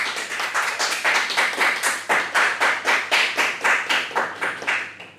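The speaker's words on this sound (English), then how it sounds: "just give yourself a round of applause" Applause at a university awards and striping ceremony: a small group claps in a quick, steady rhythm, close and fairly loud, fading out at the end with no talking.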